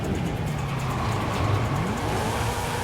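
A car in a racing video game drives hard with a continuous engine drone whose pitch dips and rises as it brakes and slides, loud and steady with no voice over it.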